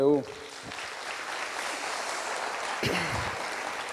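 A youth church service crowd applauds as a steady, distant wash of clapping that holds evenly for several seconds after a brief voice at the start.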